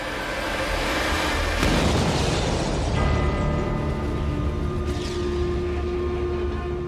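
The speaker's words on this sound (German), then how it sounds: "Diese Tellermine ist mit über 5 Kilogramm Sprengstoff befüllt. Die Explosion ist enorm." A World War II anti-tank Teller mine packed with over 5 kilograms of explosive goes off in a loud, sudden boom, followed by a long, rumbling roar that slowly fades.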